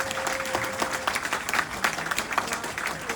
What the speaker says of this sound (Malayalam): സോ അതിനാണ് നമ്മൾ ഇത് ക്ലാപ്പ് ചെയ്യാൻ പറയുന്നത്